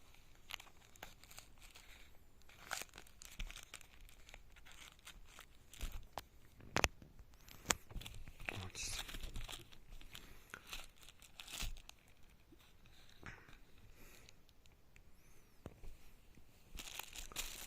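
Plastic packaging and stickers on a Bergamo NAIL manicure multitool (990MT-11) are torn open and handled, giving irregular crinkles, rips and sharp snaps up close, with no talking.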